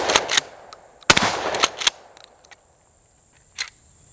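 Suppressed shotgun firing outdoors: a few sharp, muffled reports with short decays, one much louder, spaced irregularly with quiet gaps between them, and a brief spoken word.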